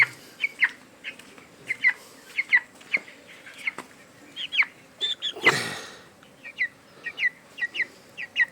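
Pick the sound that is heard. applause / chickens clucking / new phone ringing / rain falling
chickens clucking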